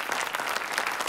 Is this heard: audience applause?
yes